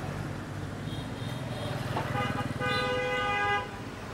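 Street traffic in Hanoi with a truck passing nearby, its engine rumbling steadily while a horn honks, then a longer horn blast comes near the end, all over a busy road din with voices.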